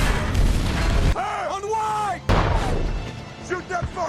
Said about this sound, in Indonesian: Aksi tembak-tembakan antar tank berlangsung sangat dramatis.